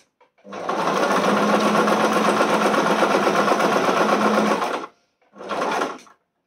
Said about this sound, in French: Et ça passe tout seul.